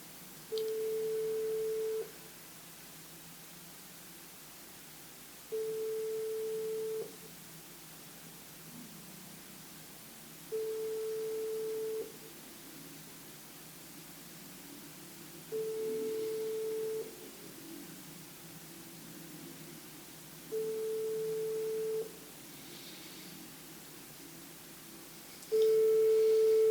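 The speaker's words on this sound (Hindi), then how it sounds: "मैं फिर इन्हें कॉल करूंगा।" Phone call tones repeat in a busy-signal pattern, with six evenly spaced beeps about every five seconds over a faint hiss and no talking.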